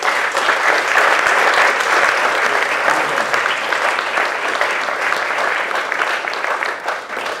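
A large audience applauds loudly and steadily to welcome speaker Raul Krauthausen at a participation award event in Bielefeld, the clapping continuous throughout and slowly easing toward the end.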